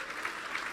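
A church congregation claps for the glory of Jesus during a sermon, a brief, steady spatter of many hands at moderate volume.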